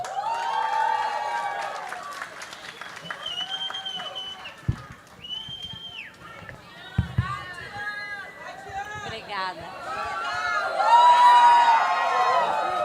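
An audience at a school-management lecture cheering, whistling and clapping with excited shouts and high voices, the noise swelling loudly toward the end while someone briefly speaks.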